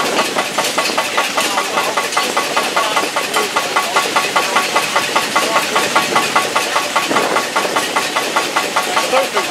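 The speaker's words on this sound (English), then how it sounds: "I don't think this engine's done a lot of work." A combustion engine runs steadily at idle with a fast, even knocking pulse throughout, loud and close with no talking over it.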